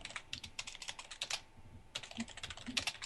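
Fast typing on a computer keyboard, bursts of dense clicking keystrokes broken by a short pause, close and fairly quiet, with no one talking.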